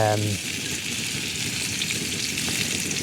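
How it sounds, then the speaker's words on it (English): Parboiled potatoes in oil and herbs fry on a camp stove during a wild camp on Slieve Donard, giving a close, steady sizzle and crackle with a brief tone at the very start. "while I cook the potatoes, which shouldn't take very long to be honest"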